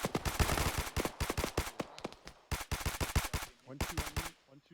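Rapid bursts of gunfire in the military shooter game Arma 3, during a squad milsim operation, with repeated sharp shots in clusters and short pauses between them, loud and close.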